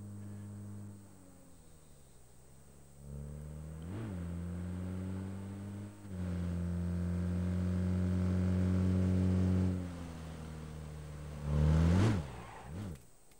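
A vehicle in PUBG's Erangel map drives past with a humming engine that rises, dips and revs in several swells, growing louder near the end, heard alone without talking.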